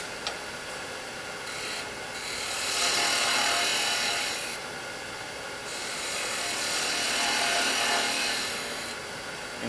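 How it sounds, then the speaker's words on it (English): A spindle gouge cuts a spinning wooden workpiece on a lathe, a close, steady rasping hiss that swells louder in two long passes and eases between them, with no talking. "then I'll use my spindle gouge if you're not comfortable using the skew"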